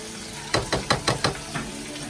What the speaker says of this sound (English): What I have here is 2 cloves of garlic that I minced up. We're going to add that to the butter